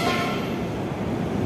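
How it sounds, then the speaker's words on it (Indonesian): A KRL commuter train at a Manggarai station platform, a steady close rumbling roar of wheels and carriages, loud and continuous for the whole moment. "kebetulan di jalur 6 ini ada KRL ya"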